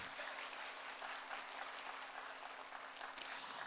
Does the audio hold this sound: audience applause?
yes